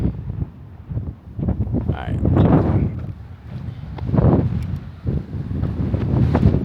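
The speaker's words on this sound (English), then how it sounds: "It's windy today." Strong gusts buffet the microphone outdoors at a park near Lake Las Vegas while wind drives dust past, a steady rumbling roar that swells and fades, with a person talking through it.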